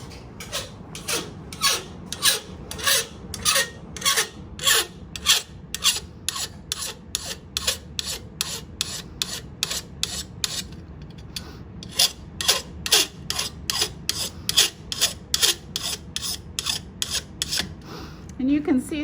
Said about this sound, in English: So I'm gonna take my file.